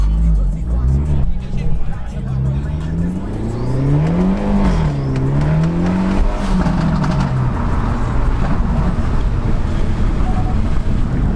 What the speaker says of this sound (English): Nice little burnout, nice little start.